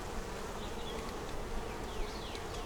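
Honeybees humming around an opened double-deep nuc hive during an inspection, a continuous close buzz with individual bees passing by the microphone.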